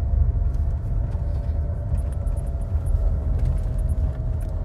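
An Austin Ambassador drives through the town streets of Winchester, giving a steady low engine and road rumble heard from inside the car, with faint ticking above it and no talk.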